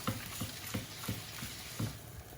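Meatballs frying in a pan give a soft, steady sizzle with faint, regular pattering pops, quiet and continuous, with no talking.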